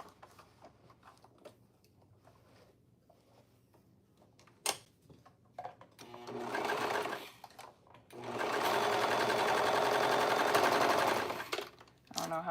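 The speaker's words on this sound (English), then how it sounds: "So she says to baste the seams." A home sewing machine bastes the seams of an Emmy bra, running in a short burst and then a longer steady whir, loud and close, after quiet handling clicks.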